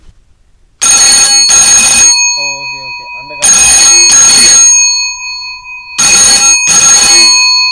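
Foley imitation of an old-style telephone ring, three loud bursts of harsh metallic ringing separated by short gaps, with a brief quiet tone pattern between the first two, a voice briefly heard.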